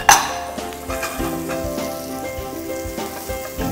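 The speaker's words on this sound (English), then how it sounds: "And goes the broccoli. And saute, saute, saute, just to get nice brown color and bring out the flavor" Broccoli sautéing in ghee and olive oil in a ceramic Cookplus pan gives a bright, close sizzle that starts with a sharp burst as the florets drop in, then settles into a steady fry with faint stirring clinks.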